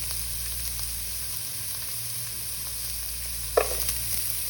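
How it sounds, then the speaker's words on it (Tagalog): Garlic and onion sautéing in a pan, with a steady low sizzle and soft stirring. A sharper scrape or clink of the spatula comes near the end. No voices are heard. "Gisa po natin yung bawang. Sibuyas. Gisa na rin yung sibuyas."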